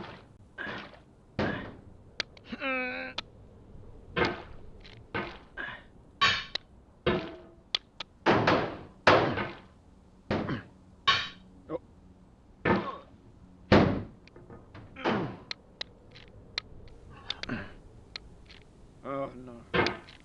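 Repeated sharp hammer blows strike a rock wall in the video game Getting Over It at an irregular pace, some louder than others, with brief gaps between them.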